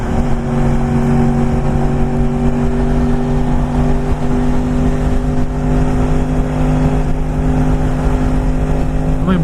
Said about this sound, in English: Yeah, that's a nice car right there. I don't even know what thing's pushing, but oh, it's some V8.